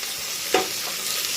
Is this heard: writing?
no